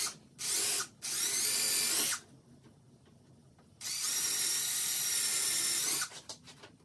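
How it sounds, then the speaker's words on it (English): A power drill with a 7/64 drill bit boring holes for a landing net build: two short high whines, a longer steady run, a pause, then another long sustained run ending in brief taps, close up. "we're gonna use a 7/64 drill bit is what I'm using"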